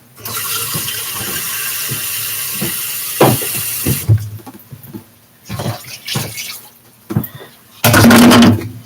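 A cup of water is poured for a caribou chili made in a Tupperware microwave pressure cooker, a loud close splashing pour at the start, then scattered clinks and handling noises, with another brief burst of pouring near the end.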